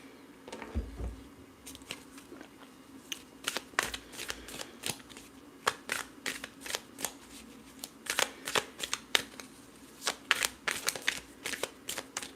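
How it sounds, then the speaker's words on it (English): Tarot cards are shuffled by hand in quick, uneven bursts of crisp riffling and snapping, running nearly the whole time at close range with no speech. "Need to make sure I shuffle my cards"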